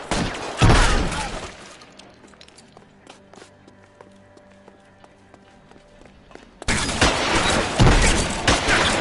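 Gunfire in an L.A. Noire shootout: loud bursts of shots and impacts open the clip, then a quieter stretch of scattered shots and rattles before the loud firing returns near the end.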